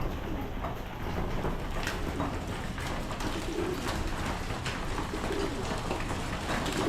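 Racing pigeons coo softly and steadily while feeding, a low murmuring flock sound at moderate distance with scattered wing flutters and light rustling throughout.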